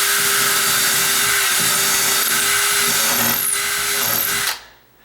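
A power drill bores into a sagging double door, giving a loud, steady whine that runs for about four and a half seconds before cutting off abruptly.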